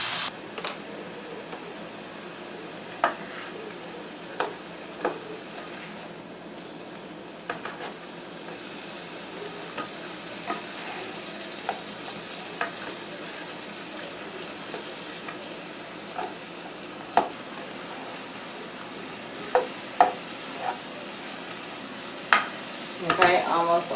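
Shrimp frying in a pan for shrimp spinach pasta, a soft continuous sizzle with occasional light clicks and taps of stirring, steady and moderately close with no talking.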